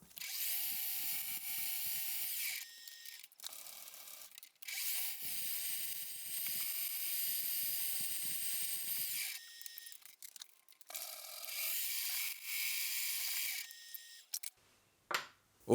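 Power drill boring holes into a metal oil filter bracket for a lathe, several sustained whirring bursts separated by short pauses, close and fairly loud with no talking.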